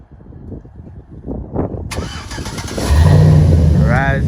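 A Chevrolet Silverado pickup engine started by a Viper remote start: a short cranking churn, then the engine catches and settles into a steady, loud idle, close by, with someone talking over it.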